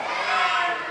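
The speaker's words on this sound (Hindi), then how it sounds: "एक बार फिर से जोरदार ताली से जयकारा गुरुदेव का" A large crowd at a Jain guru's religious discourse cheers and applauds loudly in a sustained, dense roar of voices and clapping.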